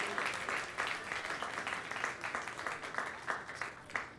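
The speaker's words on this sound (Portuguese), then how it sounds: "Dá uma salva de palmas bem bonita." An audience gives a warm round of applause for a couple being introduced at a church gathering, dense steady clapping sustained throughout with occasional louder swells.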